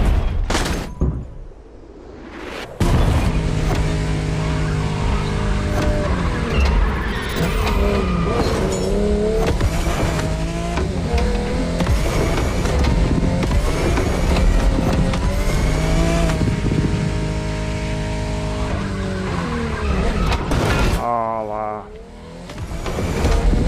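A car in The Crew Motorfest racing game revs and accelerates through gear changes, engine pitch rising and falling with tire squeal, loud and continuous for most of the stretch.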